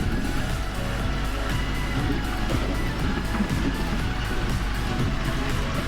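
A car rolls slowly along a riverside road beside a river running full, giving a steady, unbroken engine and tyre rumble that stays close throughout with no voices.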